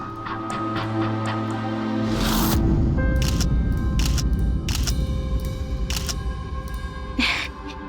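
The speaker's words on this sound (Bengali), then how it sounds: "পারফেক্ট, একটা সেলফি নিয়ে নি।" Phone camera shutter clicks repeatedly while a young woman takes a selfie indoors, sharp bursts set over a low steady hum with faint background sounds.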